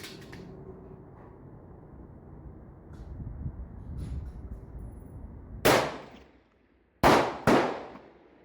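Rifle fired during F-Class F-TR long-range shooting at 1000 yards, with sharp loud cracks, one alone then two in quick succession, each decaying briefly after a quiet stretch of background wind, no talking.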